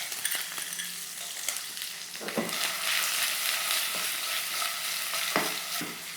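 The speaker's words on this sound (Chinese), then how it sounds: "我们就下冰糖，下一点冰糖来炒一下它的糖色" Pork ribs stir-fried with rock sugar in a pan, giving a steady close sizzle with repeated scraping stirs and clanks of the spatula and no talk.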